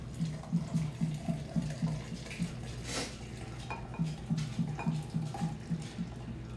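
Melted butter poured from a pan into a container in a home kitchen during keto meal prep, giving a steady, close trickle with soft clinks of cookware throughout.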